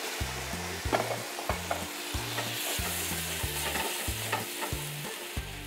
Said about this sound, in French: On va déglacer avec une bonne rasade.